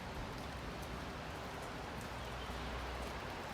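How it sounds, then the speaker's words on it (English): Heavy rain pouring down outdoors at a tool truck visit, a dense, steady hiss of drops on surfaces that stays constant and loud throughout, with no talking. "it's raining like a son of a bitch"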